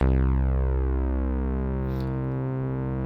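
A single sustained synth note, C, rings out steadily for a few seconds, rich in harmonics, then cuts off abruptly.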